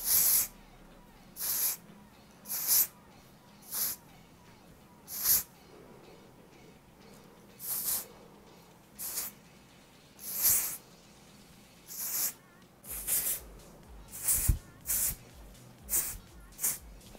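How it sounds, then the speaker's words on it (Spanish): Color Wow hairspray sprayed onto hair in a series of short sharp hissing bursts, close and evenly spaced with pauses between, repeated over and over. "Yo tengo el spray de Color Wow que lo utilizo, lo puedo utilizar solo para dar volumen tal cual."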